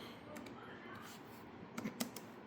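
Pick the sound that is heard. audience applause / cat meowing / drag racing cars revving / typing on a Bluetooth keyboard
typing on a Bluetooth keyboard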